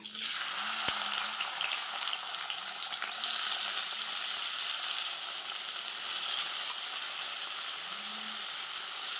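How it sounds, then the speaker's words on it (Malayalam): Steady, close sizzling of bitter gourd frying in hot coconut oil, a continuous crackling hiss with a few faint clinks of a utensil. "വെളിച്ചെണ്ണ ചൂടായി വന്നിട്ട് നമുക്ക് നമ്മുടെ പാവയ്ക്ക ഇതിലേക്ക് ഇട്ട് കൊടുക്കാം"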